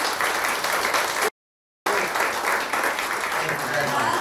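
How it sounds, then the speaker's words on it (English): Audience applause at a film promotion event, a steady, dense wash of clapping from a large crowd, briefly cut by a gap of silence before resuming. "can you all give a huge round of applause for Brad, please?"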